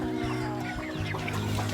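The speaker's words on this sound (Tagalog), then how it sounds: "Ang dami na pong manok ni ate." Chickens clucking close by in a yard full of hens, a dense run of short, overlapping clucks and calls that fills the whole brief moment.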